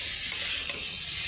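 Curry with tomato, eggplant, potato and lentils sautés in a pot, giving a steady, soft sizzle with a couple of brief stirring scrapes, close by and with no talking.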